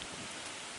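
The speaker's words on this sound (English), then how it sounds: "And it's starting to rain." Light rain begins to fall outdoors as a storm approaches, forming a faint, steady hiss of drops on surfaces with no distinct thunder or voices.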